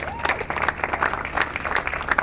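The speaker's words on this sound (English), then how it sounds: "Let's give him a round of applause." Short burst of audience applause at a centennial celebration event, many hands clapping in a lively, uneven patter, with a voice briefly audible at the start.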